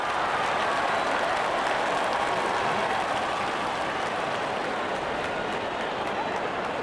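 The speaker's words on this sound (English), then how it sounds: "And there comes the celebration, and the crowd loves it." A stadium crowd in the Real Cricket 26 video game cheers and applauds after a wicket, a dense, steady roar of clapping that stays loud throughout.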